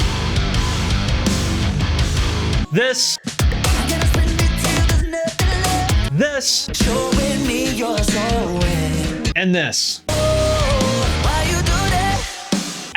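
Excerpts from a band's third album, a prog metal record: loud, dense full-band music with heavy guitars, drums and vocals, cut into several short sections with abrupt breaks between them and a few brief spoken words.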